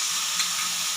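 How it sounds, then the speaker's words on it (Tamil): Tomato paste frying in hot oil for a chicken leg curry, a dense, even sizzle that holds steady throughout, close up and alone. "இப்போ தக்காளி வந்து நல்லா வதங்கணும்"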